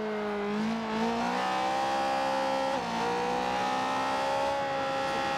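Car engine in a Forza racing game on the road, a steady droning hum whose pitch rises and dips gently through gear changes, loud and alone without talk.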